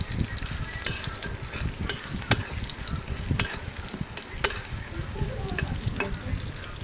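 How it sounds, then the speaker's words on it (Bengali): Chopped onions fry in hot oil in a pan, giving a steady crackling sizzle broken by scraping strokes as they are stirred, close and fairly quiet, with no talk. "পেঁয়াজটাকে ভালো করে নেড়ে চেড়ে নিতে হবে যাতে পেঁয়াজটা পুড়ে না যায়।"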